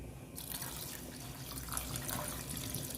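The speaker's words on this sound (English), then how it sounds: "And then I'm gonna add some water." Water pours into a cooking pot of seasoned chicken liquid in a soft, continuous splashing stream, close but fairly quiet.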